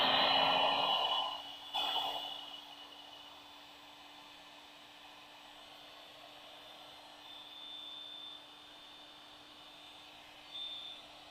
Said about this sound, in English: we get our hot air gun and we're going to heat shrink down these cores now